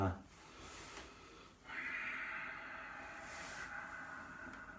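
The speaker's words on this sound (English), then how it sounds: "You're going to breathe in through the nose and out through the nose" Slow, quiet nasal breathing during a Pilates and qigong relaxation exercise: a short exhale, then a long drawn-in breath through the nose, soft and close in a still room.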